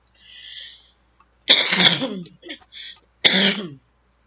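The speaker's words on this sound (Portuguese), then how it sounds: "essa tosse é de fumante, tá? Não é o Covid" A smoker's rough throat-clearing cough, then a short pause and a second harsh cough, close and loud, with a brief breathy sound before them.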